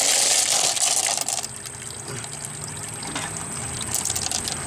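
Water runs and splashes over a rock tumbler barrel and its tumbled stones in a cleanout sink, loudest in an opening gush before settling into a steady trickle and pour.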